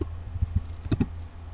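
A few quick keystrokes tapped on a computer keyboard while code is being written, faint and close, with two brighter clicks near the middle of a short burst.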